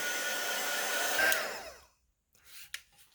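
A hair dryer blows loudly and steadily for about two seconds to quickly dry a thin coat of acrylic paint in an art journal, then switches off, leaving a few faint handling noises.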